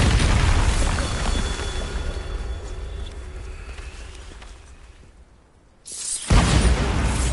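The Bombarda blasting spell in Hogwarts Legacy goes off as a heavy, loud boom that slowly fades into rumbling debris, followed by a second sharp burst near the end.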